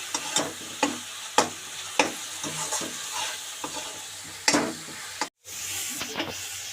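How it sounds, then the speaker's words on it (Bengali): Tomatoes and a spice paste of salt, turmeric and cumin powder fry in a pan, with steady sizzling and hissing broken by repeated scraping stirs of a spatula. "তো এটা ভাজা হবে।"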